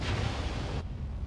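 Fire burns in the video game Limbo, a soft, steady roaring crackle of flame that cuts off abruptly partway through, leaving a quieter low rumble.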